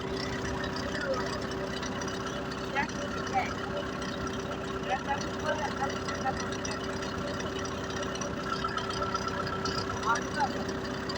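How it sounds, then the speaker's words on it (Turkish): A tractor engine runs with a steady low idling drone and faint knocking throughout, with voices talking over it in Turkish. "Evet, traktör sürüyoruz."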